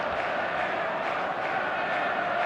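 A stadium crowd in eFootball on match day gives a steady, dense roar of cheering and chanting with no clear breaks, held at a moderate level throughout.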